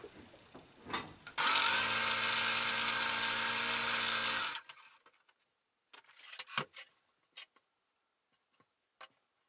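A sewing machine stitches a curved seam on a fabric car bag: a short start, then a steady whirring run of about three seconds that stops abruptly, followed by quiet clicks and fabric handling.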